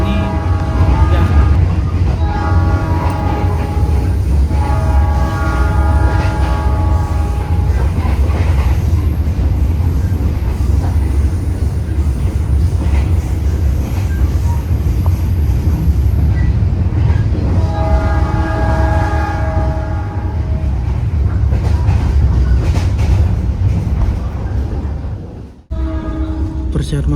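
Local commuter train running between Surabaya and Sidoarjo, heard from inside as a loud continuous rumble with recurring tonal whines, briefly cutting out near the end; speech is faintly present.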